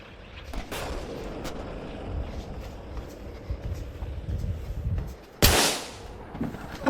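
Gunfire in a first-person shooter video game, with a steady low rumble of battle and scattered shots, capped by one loud, sharp blast near the end.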